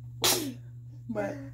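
One sharp, close sneeze bursts out, followed a moment later by a softer vocal sound as someone speaks indoors over a steady low hum.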